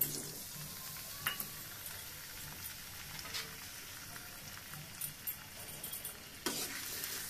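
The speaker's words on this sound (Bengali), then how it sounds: "এই যে আমি রসুন দিয়ে দিয়েছি, সম্বারা দিয়ে দিয়েছি, একেবারে সরিষার তেলে রান্না" Garlic sizzles in mustard oil in a pan, a faint, continuous crackling fry with scattered small pops and occasional stirring scrapes.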